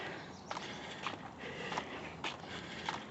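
Footsteps on a tar road in Helltown, Ohio, each step a small crackle or pop, about one per half second, quiet and close, with no talking.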